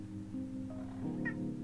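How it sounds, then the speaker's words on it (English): A hungry, starving cat meows close by in two short, rising cries, the second higher and more urgent, over a steady low electronic hum from a game playing in the background. "He is a starving cat."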